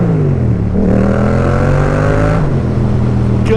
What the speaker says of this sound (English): God, I love the way this bike sounds.